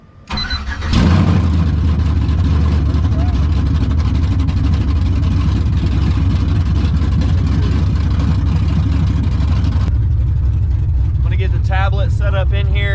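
A car engine cranks and catches after a fuel prime, then settles into a steady, loud idle close by with a deep exhaust rumble, and voices talk briefly over the idle near the end.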